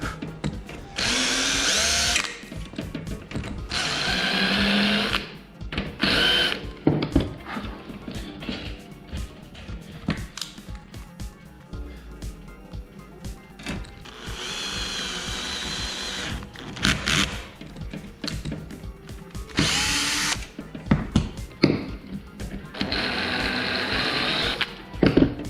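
A power drill bores holes in a carbon fiber aircraft panel on a RANS S-21 Outbound kit plane, in several separate whining bursts of a few seconds each with quieter handling noise between them.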